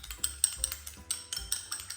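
A fork or small whisk clinks quickly against a bowl as egg yolk is beaten with two teaspoons of cold water to make a glaze for a sweet pie with jam and cream. The tapping is light, rapid and fairly close, with no talk.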